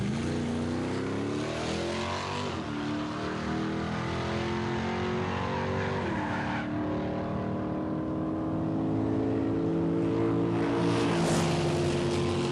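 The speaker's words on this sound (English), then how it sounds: "Racing Jim Dunn's Buick" Muscle cars drag race in a factory stock event with a Buick running, engines roaring loudly at high revs as they climb through gears, with a shift-like dip partway through and the sound sustained throughout.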